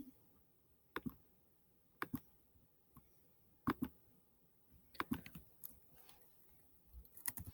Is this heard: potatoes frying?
no